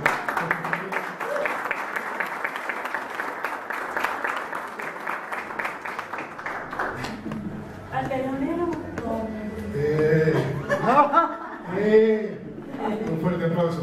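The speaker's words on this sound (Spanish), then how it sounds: "Un fuerte aplauso para Irma y para Francis que hicieron posible." Audience applause at a concert, a dense spell of clapping in the first half that gives way to someone speaking over fading crowd noise.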